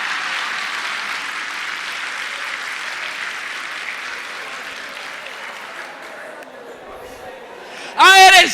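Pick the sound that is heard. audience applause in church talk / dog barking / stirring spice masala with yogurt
audience applause in church talk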